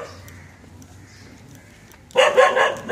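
Dog barking loudly and close by outdoors on a street near Bandstand and a dargah in Mumbai, several sharp barks bursting in after a quieter stretch of street noise with someone talking.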